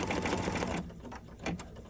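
An embroidery machine stitching along the bottom of an eyeglass rag case, a quick rapid rattling run that stops abruptly, followed by a few faint mechanical clicks.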